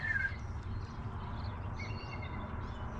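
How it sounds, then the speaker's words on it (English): Bald eagles calling to each other, heard as faint, distant high chirping notes scattered over a steady low rumble of background noise, with no voices. "Those are bald eagles singing to each other."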